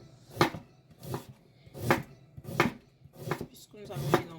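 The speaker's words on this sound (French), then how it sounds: "Nous allons hacher ceci vraiment très petit." Knife chopping vegetables finely for a homemade tomato sauce, six distinct, evenly spaced cuts on a board, close and moderately loud with no talking.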